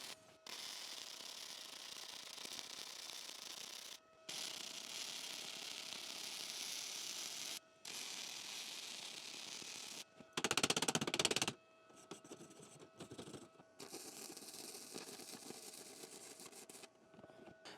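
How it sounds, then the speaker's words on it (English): Flux-core MIG welding with an Arccaptain MIG200 welder: a steady hissing, crackling arc in several long runs broken by short pauses, then a louder rough burst and scattered clicks. "Now don't forget about the clamp, and we are ready to do some welding."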